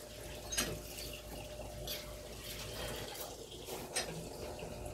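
Holy water is poured during a house blessing, making a faint, quiet trickle and light splashing with a couple of brief, brighter spills, alone without talk.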